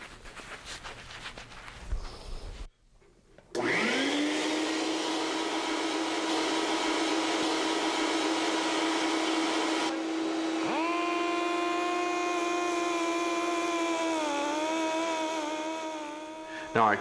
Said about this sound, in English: Now I'm going to start with an 80 grit abrasive roll like this on my air-powered die grinder.